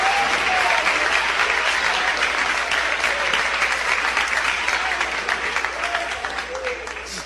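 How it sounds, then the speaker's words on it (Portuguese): A large church congregation applauds steadily, dense clapping that fills the room and slowly fades toward the end. "Pode assentar, irmãos, e podem louvar a Deus com as palmas para Jesus."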